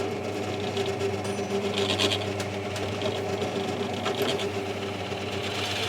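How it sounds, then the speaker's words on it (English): A drill with a Forstner bit boring a shallow dish into a hardwood cutting-board piece for a desktop catapult, a steady grinding, rasping whir that continues close and loud throughout. "What we tend to use is this, which is called a Frostner bit, and that makes a nice little dish."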